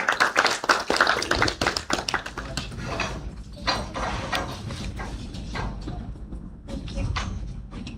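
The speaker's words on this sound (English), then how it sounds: "Please give a round of applause for her" An audience at a youth climate conference applauds for an incoming speaker, with a dense burst of clapping that gradually thins into scattered claps and handling noises.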